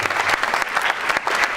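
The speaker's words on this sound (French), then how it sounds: "des applaudissements, s'il vous plaît" A crowd at an awards evening in Aveyron claps in a brief, lively burst of applause with individual claps audible in the mix.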